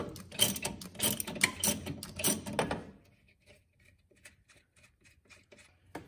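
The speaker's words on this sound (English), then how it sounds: "It's a 17mm. So I'm just going to use a ratchet and just put it on there." A ratchet wrench loosens a 17mm bolt in the engine bay of a BMW 340i with a B58 engine, giving a close, dense run of rapid clicking for about three seconds before dropping to a few faint ticks.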